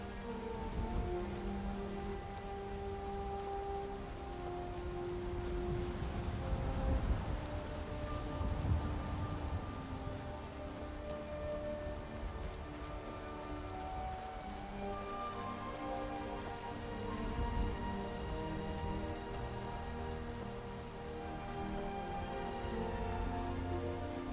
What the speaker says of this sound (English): Even the rain's pretty.